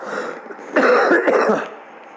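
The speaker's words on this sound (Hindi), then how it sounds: "थोड़ा सा बीमार हूँ, खांसी जुकाम है" A man with a cold coughs a few times in quick succession, a rough, close burst followed by throat clearing, alone with no talk over it.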